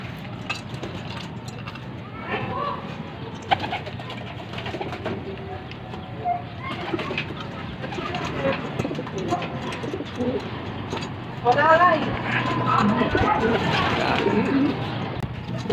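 A blue bar racing pigeon arriving home at its loft after a race from Unisan, Quezon, with soft repeated cooing and bird calls over steady background noise and light clatter.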